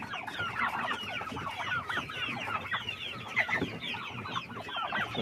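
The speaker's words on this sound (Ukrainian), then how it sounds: "починаємо рахувати, скільки в нас скільки в нас заходить курочок" Young chickens cluck and chirp continuously as they are counted into an empty cage, a dense overlapping chorus of close, busy calls with no pauses.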